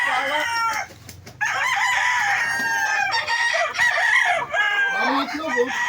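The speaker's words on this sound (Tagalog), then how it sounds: "Dami manok pala dito ni Kuya." Rooster crowing loudly and near among a flock of clucking chickens, with several long crows in a row over a busy farmyard backdrop.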